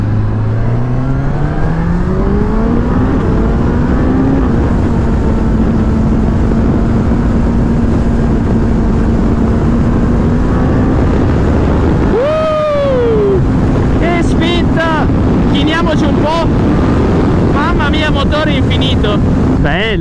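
Suzuki GSX-S 1000 GT motorcycle accelerating on a test ride, engine note rising steadily through the gears under heavy wind noise, loud and close, with a rider talking over it partway.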